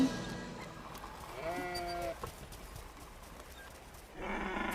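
Sheep bleat in an animated film, a couple of wavering cries from the flock with soft background sound between them.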